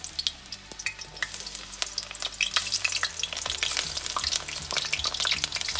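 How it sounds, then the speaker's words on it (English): Japanese eggplant frying over medium-high heat in a pan, a steady dense sizzle and crackle with scattered sharp pops, close and fairly loud throughout with no talking. "frying up the eggplant, Japanese eggplant."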